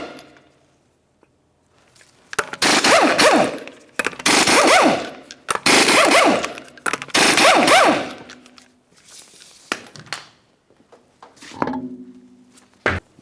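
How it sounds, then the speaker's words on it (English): Impact wrench zips off five 19mm lug nuts from a 2011-2019 Ford Explorer wheel in four loud, ratcheting bursts of about a second each, followed by quieter clinks and handling noises. "continue on to removing all 5 of your 19mm lug nuts and then the wheel"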